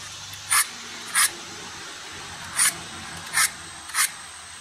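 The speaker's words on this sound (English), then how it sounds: "Sometimes, I think it helps to sharpen the blade in both directions." Five short, sharp rasping strokes of a broadhead blade drawn through an Allen sharpener, evenly spaced and close, with quiet pauses between them and no talking.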